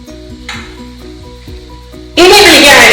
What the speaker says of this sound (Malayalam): ഇനി ഞാൻ ഹൈ ഫ്ലെയിമിൽ വെച്ചിട്ട് ഒന്നുകൂടി ഡ്രൈ ആക്കി എടുക്കാൻ പോവാണ്